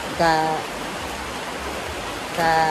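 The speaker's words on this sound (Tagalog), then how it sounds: "taguktok ang ulan sa kuan sa atop" Rain patters on a roof as a steady, even hiss of moderate loudness, with brief voices heard at the start and end.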